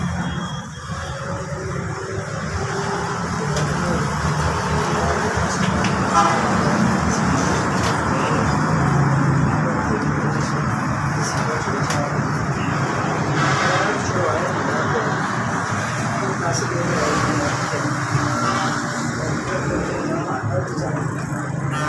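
A 1993 Daewoo Racer car, mechanic-tuned and set up to run on both gas and petrol, idles steadily at close range with a constant engine drone and faint outdoor background noise.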